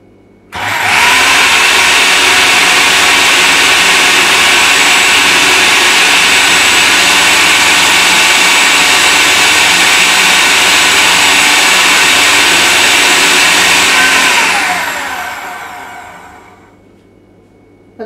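An electric mixer beats banana cake batter, a loud steady whirring drone running continuously for about fourteen seconds before winding down and stopping.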